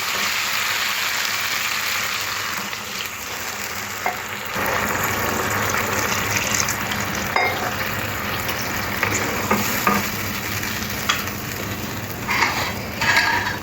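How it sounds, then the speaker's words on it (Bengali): Water hits a hot pan of spiced potatoes being cooked for a fish curry, giving a steady loud sizzle and bubbling hiss with occasional clicks and clatters from the pan. "এরপরে দিয়ে দেবো জল।"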